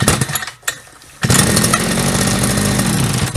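Treszer TVR8 petrol brush cutter, repaired after a loose pipe came off, runs loud and close: a brief sputter and pause, then the two-stroke engine catches and holds a steady buzzing idle.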